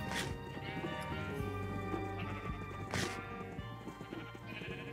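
A black sheep bleats in a Minecraft minigame, heard amid dense game sounds and music, with repeated bleats standing out over the steady background.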